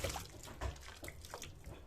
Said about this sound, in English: You just have to add your hot water